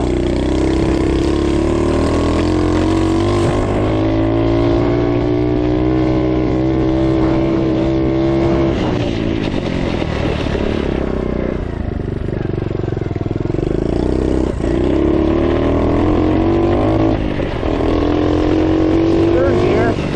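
Honda CT70 minibike engine pulling steadily in second gear, a loud continuous buzzing drone whose pitch rises and dips with the throttle throughout.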